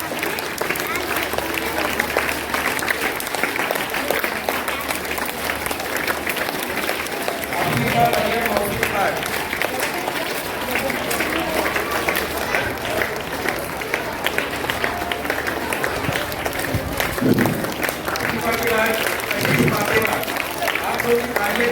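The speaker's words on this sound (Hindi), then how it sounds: "ये भी जोरदार तालियां।" Loud, sustained applause from a large crowd at a school ceremony, dense clapping filling the whole stretch while an announcer speaks over it.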